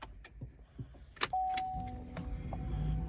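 A Chevy Volt powers on after its start button is pressed: a few clicks and taps, then a sharp electronic chime tone and a rising steady hum from the car's systems, close by and fairly quiet.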